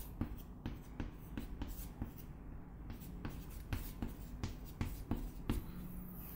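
A pen or pencil writes numbers by hand on paper: steady, close scratching strokes and small taps continue throughout, quiet but clear, with no speech.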